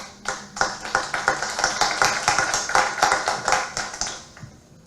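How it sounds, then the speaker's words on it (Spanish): Audience applause greeting a speaker at an international congress on educational law: dense, sustained clapping for about four seconds that tapers off at the end. "Lo recibimos con nuestros calurosos aplausos."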